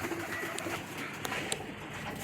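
Breeder pigeons belonging to a record-holding fancier coo softly at a distance amid a steady ambient hiss, with a few faint bird calls breaking through and no voices.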